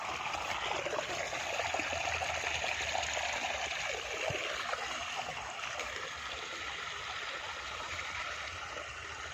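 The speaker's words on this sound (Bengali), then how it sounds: "এই দেখো যে জলটা আসছে এখানে" Irrigation water streams and trickles into a paddy field on a hot day, a steady, soft gurgling flow that runs evenly throughout at a moderate distance, with no talking.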